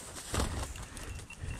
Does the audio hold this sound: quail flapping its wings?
yes